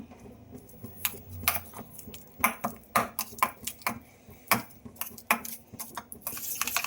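A spoon clinks and scrapes repeatedly against a bowl while stirring sugar into a honey and butter mixture, sharp metallic taps in an uneven rhythm, close and fairly quiet.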